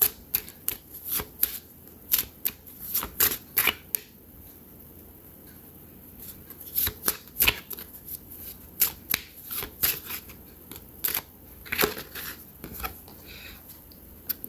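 A deck of cards is shuffled close by in quick riffling bursts, several rounds separated by short pauses, crisp and moderately loud with no talking.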